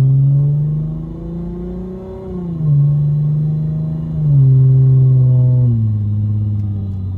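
A 2009 Lexus IS250 with a straight-pipe exhaust, resonator and mufflers deleted, holds a loud, steady low drone. Its pitch dips and rises a few times as the revs change while driving, with no talking.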